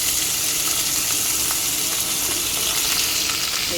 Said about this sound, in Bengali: এই পেঁয়াজটাকে একটু হালকা করে ভাজবো।